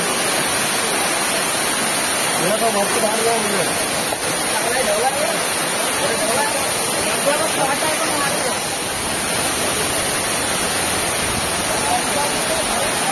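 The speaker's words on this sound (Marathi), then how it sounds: "जबरदस्त धबधबा पडतोय." A waterfall beside a road in Konkan, near the Savitri river, rushes in a steady loud roar, with indistinct voices murmuring faintly underneath.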